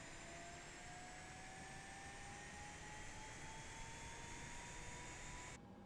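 An ATR turboprop's number two engine spools up in Microsoft Flight Simulator, a faint steady whine with rising tonal pitches over a low droning rumble that cuts off abruptly at the end.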